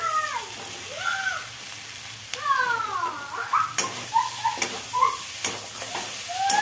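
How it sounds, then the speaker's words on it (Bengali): Soybean chunks fry in oily spice masala for a meatless Bengali biryani, giving a close sizzle broken by stirring clicks and knocks, with a few brief warbling tonal sounds over the top. "মশলা ভাজা হয়ে গেছে যে মশলার থেকে তেল ছেড়েছে আর সয়াবিনটা দিয়ে দিলাম"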